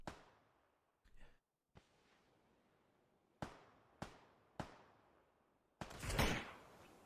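Sharp gunshots ring out in a PUBG esports match, about seven separate cracks spaced irregularly with short decaying tails. The last blast is louder and more sustained.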